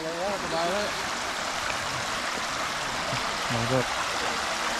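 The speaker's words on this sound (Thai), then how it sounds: "มาาดูน้ำตกนะครับ" Water pours over a small dam into a stream, a constant broadband rushing that fills the scene, while someone talks briefly over it at the start and near the end.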